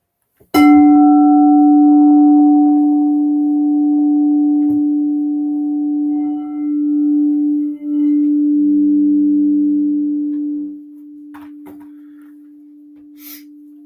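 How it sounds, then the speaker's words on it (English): A sound bowl is struck once and rings with a loud, pure sustained tone that holds steady for about ten seconds, wavering slightly before fading, with a faint hum lingering afterward. "Yes, it is a sound bowl."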